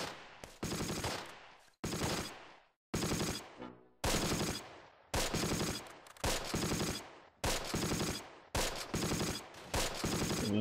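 Machine-gun fire in Close Combat: The Longest Day, a World War II strategy game, comes in about nine loud, sharp bursts of rapid shots separated by brief silences, with no voices.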